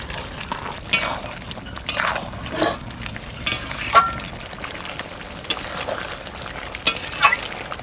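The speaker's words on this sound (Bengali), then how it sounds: "মাংস থেকে জল ছেড়ে দিচ্ছি, এবার ভালো করে কষিয়ে নেব।" Country red rooster meat being stirred and sautéed in a pot, with a steady sizzle broken by repeated scraping strokes and occasional metallic clinks of the spoon against the pot.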